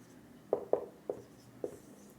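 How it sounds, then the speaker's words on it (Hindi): Chalk or marker writes a ratio on a classroom board, producing four short, distinct tapping strokes spaced irregularly over a quiet background, fairly close and moderately faint. "हम इसको तो यूँ लिखते हैं"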